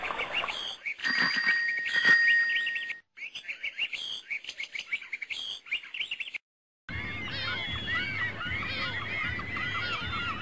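Cartoon seagulls flying over a garbage dump make a string of squawking, honking calls, shrill and fairly close, followed by a denser layer of chirping and croaking birdlike sounds with no talking.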